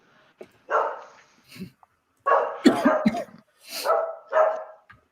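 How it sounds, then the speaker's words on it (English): Several dogs bark in irregular bursts, some sharp and some gruff, with short pauses between outbursts, fairly close by. "Sorry for the barking. It's just the dogs."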